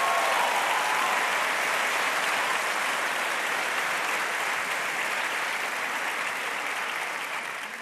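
An audience at an awards-style ceremony bursts into sustained applause, a dense, even wash of clapping from many hands that carries steadily for several seconds and eases slightly toward the end.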